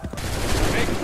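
Musket volley fire in the Assassin's Creed 3 video game, a dense burst of overlapping shots after a brief lull, sustained and loud throughout the short stretch.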